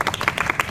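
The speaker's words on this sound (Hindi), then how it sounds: "ताली हो जाए गर्ल्स के लिए" Brief, lively clapping from an audience applauding the girls among the toppers at a Bihar SSC and Bihar police exam group discussion session, a quick burst of overlapping hand claps at close range.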